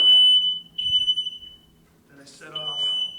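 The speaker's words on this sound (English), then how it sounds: "that I set off the fucking fire alarm." A smoke alarm in a steamy workout room beeps with a piercing high tone while someone talks over it.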